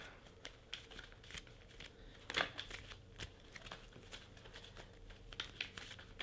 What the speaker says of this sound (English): we're each gonna shuffle our own decks